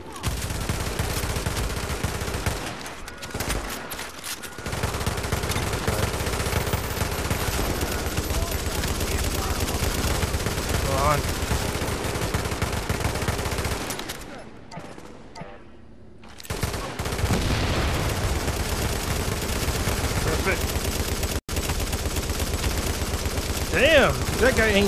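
Sustained automatic gunfire in The Division's Dark Zone, a dense, loud stream of shots running almost without pause, dropping out briefly twice before resuming at full intensity, with occasional voices underneath.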